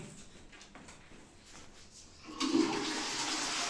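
A hotel room toilet flushes with a sudden loud rush of water partway through, following a quiet stretch of faint room noise.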